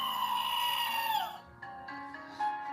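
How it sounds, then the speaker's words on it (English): A goat screams in a long, loud, harmonic bleat that bends downward and breaks off, followed by quieter wavering bleats from the same animal. "This is a goat scream."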